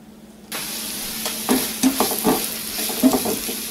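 Onions sautéing in oil over high heat for a beef chilli, a steady frying sizzle with stirring scrapes and clinks of a utensil against the pan, close and alone without talk.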